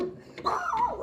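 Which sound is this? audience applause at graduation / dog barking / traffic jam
dog barking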